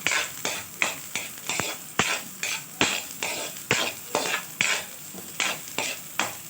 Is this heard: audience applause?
no